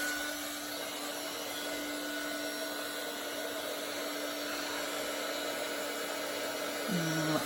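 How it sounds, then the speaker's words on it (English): A crafting heat tool blows hot air in a steady, loud, continuous whirring rush that holds evenly throughout with no talking. "once you turn your heat tool on"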